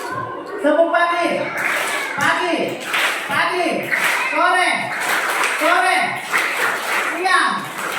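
Children in a church kids' group play a clapping game, chanting in unison while their hands clap together in a steady repeated rhythm, the clapping mixed under their chanting voices.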